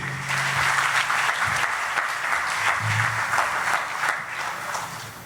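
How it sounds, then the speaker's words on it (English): A large audience applauds hoop dancers at a festival main stage, a sustained, even roar of clapping that holds throughout and tapers only slightly at the end, with a faint voice or two beneath. "another big round of applause."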